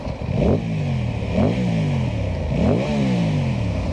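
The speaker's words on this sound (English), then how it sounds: "Let me just pull the clutch in and rev it." An Aprilia Tuono 660 Factory motorcycle from 2025/26, clutch pulled in, revved close up in three loud throttle blips over a steady, deep idle, each rising sharply in pitch and falling back.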